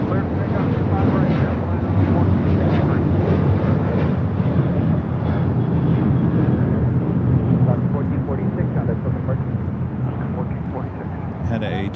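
A JetBlue airliner taking off at LAX, a loud continuous engine roar with wind buffeting that holds steady throughout.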